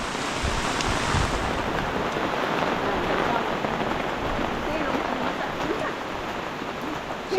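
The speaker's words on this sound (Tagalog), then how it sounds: "Yung malakas yung ulan." Heavy rain pours steadily in a farming area, a dense, even hiss of downpour hitting surfaces close by that runs unbroken throughout.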